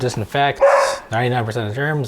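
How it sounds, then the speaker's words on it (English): A dog barks in the background while a person speaks over it. "That's my dog barking in the background,"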